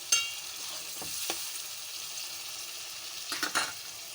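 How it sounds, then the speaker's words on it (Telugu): Onion paste frying in a pan for a curry, a faint, steady sizzle with a few soft stirring scrapes, close by and quiet. "ఇప్పుడు ఉల్లిపాయ ముద్ద వేస్తున్నాను"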